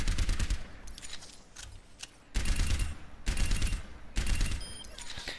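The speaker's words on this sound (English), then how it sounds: "range with pulses of Soldier's pulse rifle." Soldier's pulse rifle in the Overwatch video game firing in short bursts: four rapid automatic volleys of crisp gunfire separated by brief pauses, loud and upfront.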